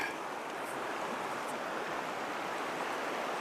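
Out in the middle of a river while fishing, water rushes in a steady broadband wash, close and continuous with no breaks or talking, like fast current pouring over rocks.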